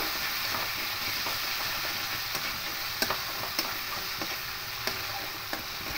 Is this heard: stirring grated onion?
yes